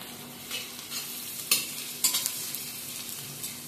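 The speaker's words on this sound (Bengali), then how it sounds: "মিডিয়াম ফ্লেমে হালকা ভাজা ভাজা করে নিচ্ছি।" Chopped onion with a little salt fries on a medium flame as a spatula stirs it. A soft, steady sizzle carries several scraping strokes, with two sharper scrapes near the middle, and no one speaks.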